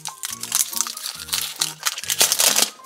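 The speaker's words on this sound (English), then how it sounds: "let's tear this open" Plastic packaging on a knockoff My Little Pony toy being torn and crinkled open by hand, a close, busy run of crackling rips and crinkles that continues for about three seconds with a faint musical tone underneath.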